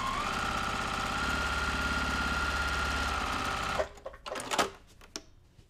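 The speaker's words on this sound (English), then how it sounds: "And then sew down this last seam" A sewing machine runs steadily as it sews down the last seam of a quilt block, a loud continuous whirring hum that stops abruptly, followed by a few brief handling clunks.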